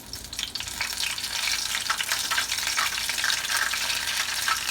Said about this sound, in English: I like to put a few in so they'll have enough room to move and to fry